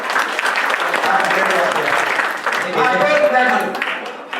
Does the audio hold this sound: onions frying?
no